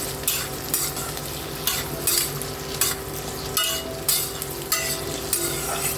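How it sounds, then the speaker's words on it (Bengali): Sliced potatoes fry in a pan for a Bengali kolmi shak ghonto and are stirred repeatedly. Rhythmic scraping strokes of the spoon come over a steady, soft sizzle, with no voices. "আলুগুলো একটু ভালো করে ভেজে নেবো।"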